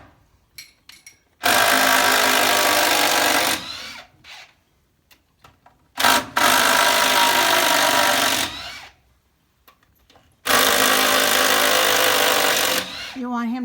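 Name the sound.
power drill driving screws into barn wood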